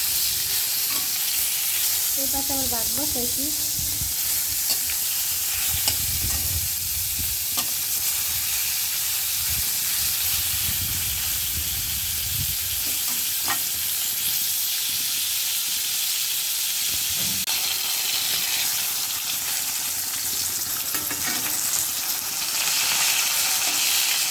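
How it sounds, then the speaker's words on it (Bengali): Fish fries in a pan with a loud, steady sizzle and hiss that runs the whole time, with a few soft stirring knocks and no talking. "এই যে মাছ ভাজা হয়ে গেছে এখন নামিয়ে নিব"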